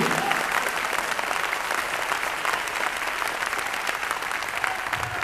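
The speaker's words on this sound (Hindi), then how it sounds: "जोरदार ताली होनी चाहिए।" Loud, dense applause from a seminar audience in Kolkata, continuous and even across the whole stretch with no voices rising over it.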